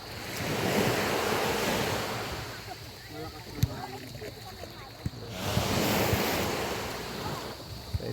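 Calm sea waves washing ashore at Anawangin Cove at night, a steady soft surf with some wind rumble against the microphone and a few faint knocks.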